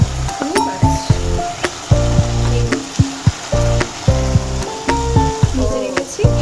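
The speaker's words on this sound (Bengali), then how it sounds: "আর এখানে মশলাটা কষাচ্ছি, একটু পেঁয়াজ ভেজে দিয়েছি" Spice paste and onion sautéing for a rohu fish curry, loud close frying with rhythmic spatula scrapes and clinks against the pan, repeating about every half second in short bursts, with no voices.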